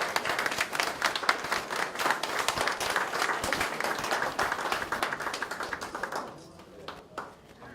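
Crowd clapping at an anti-corruption federation launch ceremony in Daejeon, steady dense applause for about six seconds that thins and fades near the end, with faint talk underneath.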